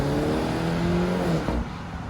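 A BMW 3 Series GT M Sport Shadow Edition accelerates hard from a standstill toward 100 km/h, its engine note rising steadily and loud, then easing off near the end.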